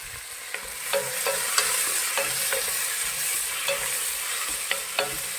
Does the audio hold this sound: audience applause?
no